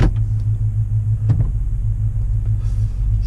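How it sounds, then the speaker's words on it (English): Ford Mustang engine idling quietly after a winter cold start, a steady low rumble with a faint rhythmic pulse running evenly throughout, close by with no talking. "Now with the Mustang running, you can't even tell that this thing is on."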